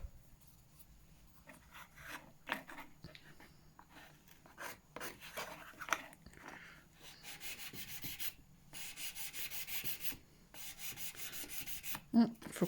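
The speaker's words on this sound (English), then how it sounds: "so we'll just give that a little sand." An acrylic nail is sanded by hand with a file, giving a steady rasping scrape in repeated strokes, faint and close, with quiet handling noises between passes.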